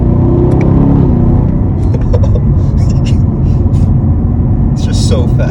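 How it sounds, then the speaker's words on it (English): Car engine pulling hard in second gear under heavy throttle, a loud, steady low rumble that holds for the whole stretch while a voice talks over it. "Second gear on the gas."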